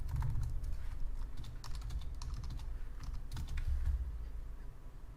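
Continuous fast typing on a computer keyboard, with close, clattering key presses that run steadily for about five seconds while code is being written.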